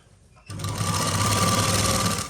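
After a brief quiet start, a sewing machine runs steadily while stitching a skirt, a close, fast, even motor whir with a rapid mechanical rattle.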